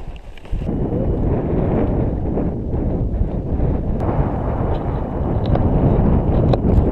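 Wind gusts steadily across a mountain summit during a ski touring outing, a loud, rough, continuous rumble buffeting the microphone from start to finish, with a few faint clicks over it.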